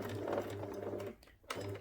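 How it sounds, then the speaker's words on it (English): A domestic sewing machine stitches slowly around a circle of teddy bear fabric, running in short steady bursts with a brief pause before starting again, heard close and fairly quiet. "I'm just going to very slowly and carefully sew around."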